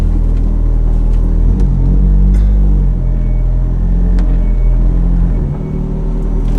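A naturally aspirated V8 supercar engine rumbles deep and loud at close range, its idle swelling slightly in low revs before settling, with a steady throbbing burble and no talk over it.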